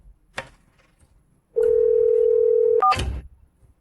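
A telephone dial tone hums steadily for over a second, then gives way to a quick burst of dialing tones, with a soft click before it.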